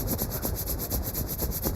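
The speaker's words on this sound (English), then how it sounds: "Now start rubbing." An audience rubbing their hands together in a lecture hall, a dense, even rhythmic swishing friction heard close and steady throughout, with no talking.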